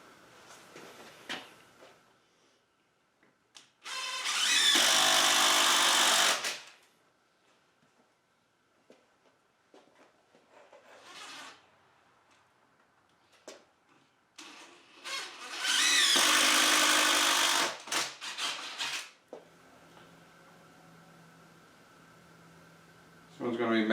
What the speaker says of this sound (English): Get a couple of screws in this to hold it in place.